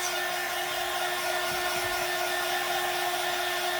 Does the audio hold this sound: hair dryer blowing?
yes